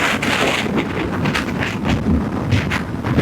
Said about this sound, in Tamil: இந்த 120ல க்ரூஸ் பண்ணும்போது இவ்வளவு காத்து அடிக்கும் போது கூட அந்த எக்ஸாஸ்ட் மூட்டு கேக்குதுங்க